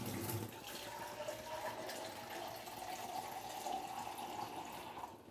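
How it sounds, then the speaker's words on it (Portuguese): Water poured into a 6-litre Tramontina Allegra pressure cooker makes a steady, close splashing stream that runs for about five seconds, then stops. "Vou colocar um pouquinho de água pra poder..."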